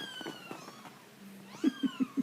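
A kitten, one of a litter including a little orange one, meows repeatedly, with a run of short, loud, evenly spaced meows near the end, close by and alone.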